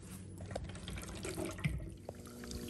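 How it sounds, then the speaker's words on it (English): Bosch dishwasher filling with water through its inlet valve, a steady rushing, gurgling flow with low hum and a few small splashes, heard close up without talk. "Okay, so the water's filling up"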